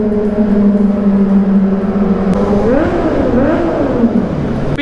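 Kawasaki Z900 motorcycle idling with a steady, loud exhaust drone near a tunnel, then a couple of throttle blips rise and fall in pitch before settling back, heard close and alone without talk.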